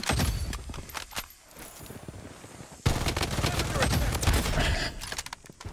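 Sniper gunshots in the battle royale shooter Blood Strike: several sharp, loud shots, one standing out with a sudden heavy blast, mixed with busy firefight noise, scuffling movement and a voice talking over it.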